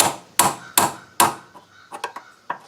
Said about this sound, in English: Probably want to use a hammer.